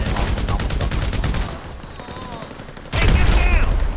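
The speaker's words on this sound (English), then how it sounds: "I'm getting shot from behind somewhere." Heavy gunfire in GTA V survival mode, dense overlapping shots from several weapons, loud and continuous, easing briefly mid-clip before a loud renewed burst.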